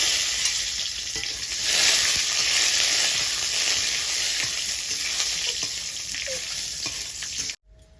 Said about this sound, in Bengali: চিনে বাদামটা আমি ভেজে নেব।